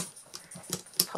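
An excited puppy whimpers in a few soft, high, short cries with faint snuffling between them, close and quiet, with no talking.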